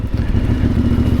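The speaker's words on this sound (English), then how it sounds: "sometimes the exhaust just spits a little bit and it sounds really nice" CF Moto 450MT motorcycle on tight mountain switchbacks, its engine giving a loud, steady low drone with a fast pulsing throb and slight clatter as the exhaust runs on.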